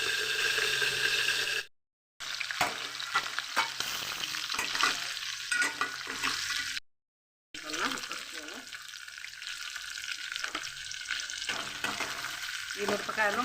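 Red chillies sizzling and frying in a pan for a tomato moong dal curry, a steady loud crackling hiss broken by two short silences, with occasional stirring scrapes.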